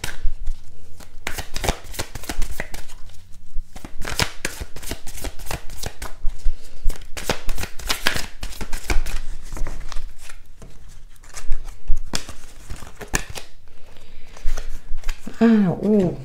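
Oracle cards shuffled and drawn in bursts of riffling and slapping, close and crisp with brief pauses between rounds, a short tonal chime near the end.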